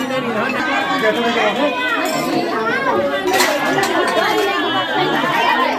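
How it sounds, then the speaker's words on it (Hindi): Crowd chatter fills a Mithila sacred thread ceremony during the matri bhiksha rite, with many voices overlapping and children's voices mixing in, a steady busy murmur that stays loud and close throughout. "देखिए जनेऊ संस्कार देखने के लिए सब भीड़ है।"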